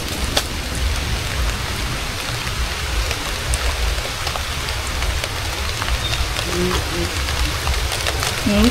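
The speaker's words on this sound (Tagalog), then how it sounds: "Guys, ulan na." Steady rain falling outdoors at a fishpond, a dense even hiss of drops with occasional louder close splats, continuous and fairly loud with a low rumble beneath.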